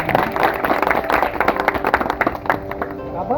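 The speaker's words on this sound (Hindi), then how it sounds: "जोरदार तालियों से हम लोग सभी इस्तेमाल करना चाहिए।" Old school friends from a 1998 SSC batch clap loudly at a reunion gathering as a guest is welcomed, a sustained crowd applause with scattered voices and a few sharper individual claps.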